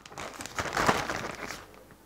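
A plastic bag is crinkled and folded shut around a salt-rubbed lamb leg being cured for pastırma, giving a close, continuous rustle that swells midway and then fades.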